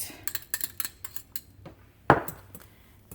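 A whisk clatters in a bowl as egg yolks are whisked into beaten egg whites: quick, irregular metallic taps and scrapes, then one sharper knock against the bowl, with no talking.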